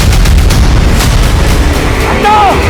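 Loud, sustained gunfire in a staged crime-drama rooftop raid, a dense continuous rattle of shots and booms filling the whole moment with no talk over it.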